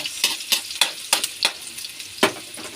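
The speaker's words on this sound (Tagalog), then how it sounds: "Haluin natin ang sibuyas." Onions frying in a pan are stirred in a series of about six quick scraping strokes spaced irregularly over a soft continuous sizzle, close and clear with no voices.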